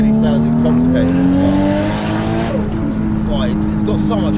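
Single-turbo 1JZ engine in a Toyota Mark 2 JZX100 driven flat out, a loud steady high-revving drone with a gear change around the middle, heard from inside the car under ongoing conversation.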